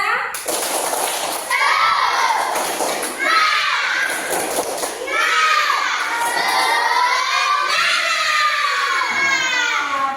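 Schoolchildren in a classroom shout a loud rhythmic group chant punctuated by bursts of clapping, with voices rising and falling in repeated phrases.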